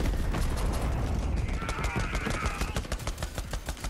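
Rapid gunfire from the video game Borderlands 3 rattles steadily throughout as a loud, sharp volley of shots, mixed with mechanical clanks and a brief whirring tone in the middle.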